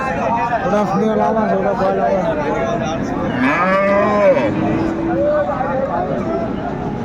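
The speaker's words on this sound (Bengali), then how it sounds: "সুন্দর একটি ষাঁড় আমরা দেখছিলাম।" A Sahiwal bull at a Dinajpur cattle market gives a loud, drawn-out moo midway, rising over a steady hubbub of crowd chatter and voices.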